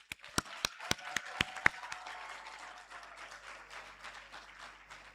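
An audience applauds at a ceremony inducting newly qualified doctors and dentists, opening with a few sharp loud claps before settling into a steady, moderate wash of clapping from a crowd.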